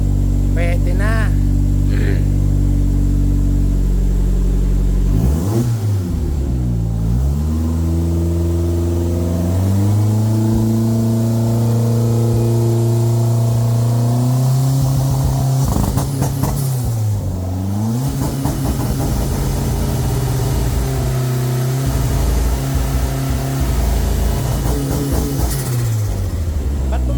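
Car engine from a JDM collection revving hard and bouncing off the rev limiter, loud and close, with repeated rising and falling sweeps and stuttering cuts at the top; voices talk over it.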